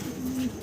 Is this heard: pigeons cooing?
yes